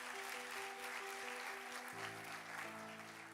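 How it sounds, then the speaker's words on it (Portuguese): A church congregation applauds, a broad wash of clapping held steadily throughout, with sustained organ or keyboard tones running underneath. "pode aplaudir a Jesus"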